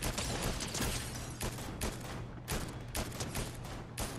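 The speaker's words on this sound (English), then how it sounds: "They're shooting." Repeated bursts of gunfire from Fortnite Zero Build, rapid volleys of shots with short gaps, steady and fairly close, with no talking over them.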